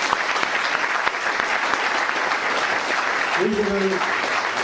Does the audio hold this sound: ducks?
no